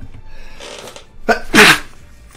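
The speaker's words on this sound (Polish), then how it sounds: "Już po prostu czułem, że nadchodzi ten kich." A single loud, close sneeze bursts out after a short, sharp intake of breath, with quiet room noise before and after, caught during a Binding of Isaac play session.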